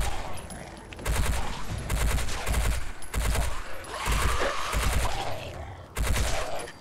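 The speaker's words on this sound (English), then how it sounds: "I'll just come up here and shoot the ghouls." Rapid bursts of gunfire from a VR game, fired while shooting ghouls: several loud volleys in quick succession, broken by short pauses across the whole stretch.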